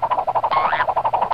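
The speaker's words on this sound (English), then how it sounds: "Ooh, disco frog!" A cartoonish frog in the video game Just Me and My Mom croaks in a steady, fast run of loud, pulsing ribbits, with a brief rising warble partway through.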